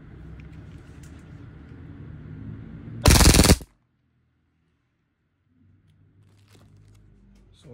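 EMG Sand Viper airsoft gun firing one short full-auto burst, a loud rapid buzzing rattle lasting about half a second. Background noise comes before it and near silence follows.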